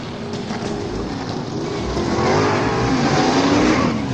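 A Corvette race car at the start of a race, engine revving in rising and falling pitch sweeps that grow louder, close and with no talking.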